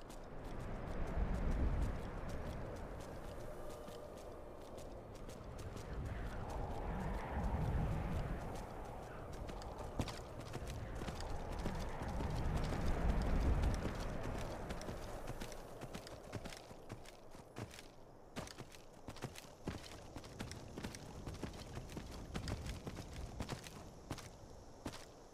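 A horse in Skyrim rides downhill, its hooves clip-clopping in a steady rhythm that grows to quicker, crisper beats, over soft ambient music.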